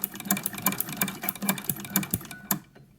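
A sewing machine with a ruffler attachment stitches fabric ruffles in a close, loud run of quick repeated mechanical ticks and bursts, ending in a short quiet stretch.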